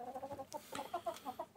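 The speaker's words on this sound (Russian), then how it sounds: "Просто присматриваемся к петухам, которые у нас рабочие." A rooster clucks in a chicken coop with quick, close, repeated clucks in an uneven rhythm, alone with no talking.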